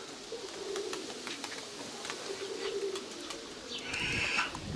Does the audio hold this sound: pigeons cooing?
yes